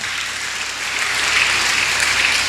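A church congregation clapping together during a healing sermon, a dense, even burst of applause filling the space at steady loudness for a couple of seconds.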